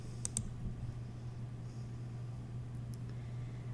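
A computer mouse gives a couple of quick sharp clicks near the start and a few fainter ones later, over a steady low electrical hum in a quiet room.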